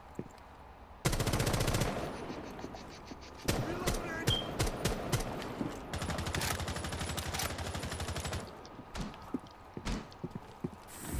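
Rainbow Six Siege firefight with long, loud bursts of automatic gunfire alternating with single sharp shots, dense and close, while players talk in between.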